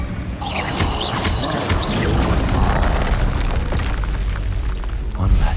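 A Confringo fire spell detonates during combat in Hogwarts Legacy, a booming blast woven into dense, loud game effects and rumbling background sound that stay steady for several seconds.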